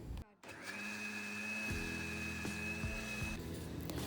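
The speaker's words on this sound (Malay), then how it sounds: "Kisar dulu bahan ni sehingga hancur." An electric blender whirs loudly as it grinds tempoyak with turmeric and garlic, a sustained motor drone that shifts pitch as the blades work through the paste.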